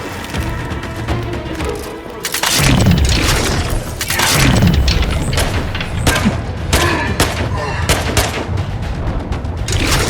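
Rapid, overlapping gunfire from a first-person fight in the video game Outer Worlds 2, loud and close, in dense bursts that barely pause for about ten seconds, with heavy booming impacts mixed in.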